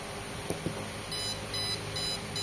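A few short electronic beeps from a buzzer in a model railway crossing gate sound in a steady on-off pattern, preceded by a couple of clicks, over a faint background hum.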